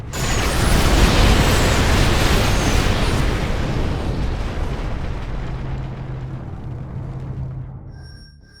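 Weapon fire from the Spear of Adun in the StarCraft II video game, a loud roaring blast with rumbling explosions that swell early and then slowly die away into a low hum and electronic tones, with no voices.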